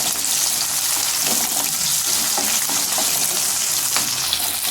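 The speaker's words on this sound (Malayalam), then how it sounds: "ഇനി നമുക്കിതിലേക്ക് അരിഞ്ഞു വെച്ചേക്കണ പച്ചമുളക് ആഡ് ചെയ്ത് കൊടുക്കാം. നല്ലപോലെ ഇളക്കിയെടുക്കാം കേട്ടോ." Green chilies stirred into a sizzling pickle mixture for ash gourd pickle, giving a steady close frying hiss with faint scraping stirs throughout, no talk.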